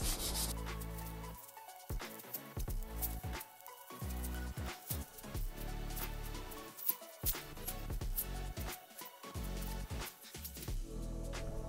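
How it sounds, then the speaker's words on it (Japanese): Sandpaper rubbed by hand over the sanding sealer coat on a wooden kitchen cabinet, close rhythmic rasping strokes repeating steadily with brief pauses between passes. "クリア塗装の前にサンディングシーラー表面を研磨します。"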